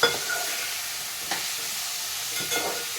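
Cucumber fries in a pan with a steady, soft sizzle, broken by a few brief stirring scrapes.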